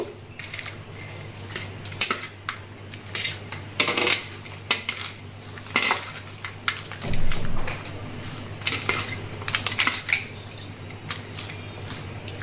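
Lentils and a tempering of spices being stirred together in a metal pan, with repeated scraping and clinking of a spoon against the metal throughout, close and fairly loud, plus a low steady hum underneath.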